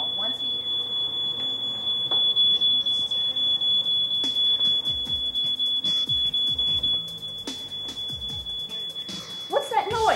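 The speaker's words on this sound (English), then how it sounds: "That sounds more like a smoke detector." A smoke detector gives a steady high electronic tone that runs continuously for several seconds as people talk over it, then fades.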